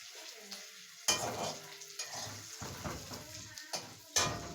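Chow mein stir-fried in a home wok at night, with faint sizzling and intermittent sharp scraping strokes of a spatula against the pan, fairly quiet.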